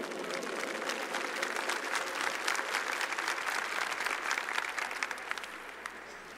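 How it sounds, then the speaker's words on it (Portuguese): A church congregation applauds, a dense, sustained patter of many hands clapping at an even loudness, a few sharper claps near the end, with no voices on top. "Vamos aplaudir o nosso Rei"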